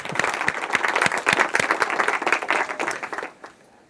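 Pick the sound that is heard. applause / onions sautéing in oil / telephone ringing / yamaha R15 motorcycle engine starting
applause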